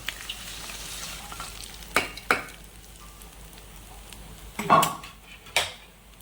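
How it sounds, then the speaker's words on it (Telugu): A soft, steady sizzle of spices tempering in oil, broken by a few sharp clinks and scrapes of a spoon against the pan. "తాలింపు పెట్టేసి ఈ విధంగా తాలింపు వేగింది కదా ఇదిగోండి"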